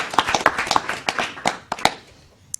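Applause breaks out from an audience at a Southampton Town Board meeting, a quick scattered burst of hand claps that thins out and fades within a few seconds, ending with one last isolated clap.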